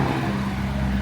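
A car drives along Perimeter Road in Angeles City at night, its steady low engine hum and tire rumble filling the whole moment at close range, with no clear talk over it.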